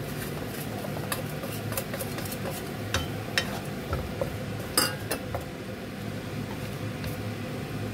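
Onion fries in a pan for scrambled egg with tomato, a steady sizzle beneath scattered clinks and scrapes of a utensil against the pan.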